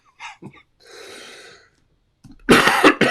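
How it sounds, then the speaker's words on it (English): A person coughs indoors, a few short throaty bursts followed by a longer breathy exhale, then one loud, close cough at the end. "Excuse me, I have a cough today."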